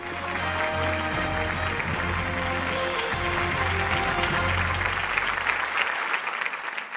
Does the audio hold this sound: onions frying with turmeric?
no